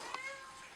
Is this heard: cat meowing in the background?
yes